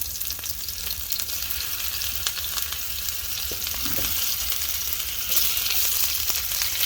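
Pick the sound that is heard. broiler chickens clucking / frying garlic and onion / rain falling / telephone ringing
frying garlic and onion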